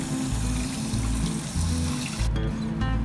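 Water running steadily over gold-panning concentrates and a high anchor during wash-out, a continuous close rush and splash with a low pump-like hum underneath.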